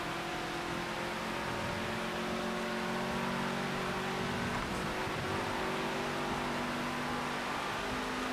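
A GMC Vandura van engine revs in the Project Cars 2 racing game, a steady droning engine note with shifting tonal harmonics and a brief dip midway, heard alone over constant broadband noise.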